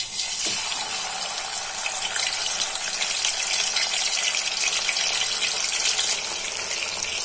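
Masala-coated katla fish pieces fry in hot oil, giving a steady, loud, dense sizzle that continues throughout without pause.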